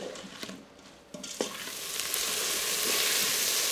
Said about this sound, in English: We're gonna go ahead and let this sit here and saute until everything is nice and tender and translucent.